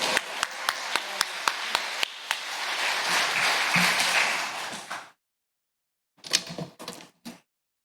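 Congregation applauding in a church during a Sunday afternoon service welcoming a missionary, opening with a few distinct claps that swell into dense, close applause, then break off into silence before a few scattered claps and taps.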